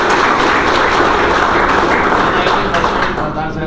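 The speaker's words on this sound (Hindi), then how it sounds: "इसलिए इनका पूरा जोरदार तालियों से अभिनंदन।" Loud, dense audience applause at a bank's award and felicitation ceremony, a continuous roar of many hands clapping that stays strong throughout and eases slightly at the very end.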